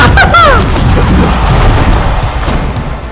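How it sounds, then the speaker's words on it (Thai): A loud booming blast in the game Brawlhalla erupts at the start, followed by a long rumbling, crackling decay that slowly fades. "โดนระเบิดเฉย"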